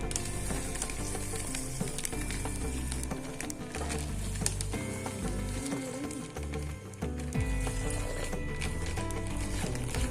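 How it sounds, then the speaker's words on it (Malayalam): Boiling hot water is poured steadily for oyster mushroom cultivation, a continuous rushing hiss at moderate loudness lasting the whole stretch, with a faint steady hum beneath it. "അതിനുശേഷം നല്ലപോലെ തിളച്ച ചൂടുവെള്ളം ഒഴിക്കാം"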